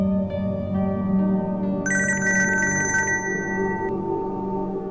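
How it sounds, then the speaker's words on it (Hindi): Telephone ringtone chiming in a repeated electronic pattern for a couple of seconds, fairly loud over a low background hum in a Hindi-dubbed South Indian action film scene, with no speech. "देखिए फोन बज रहा है।"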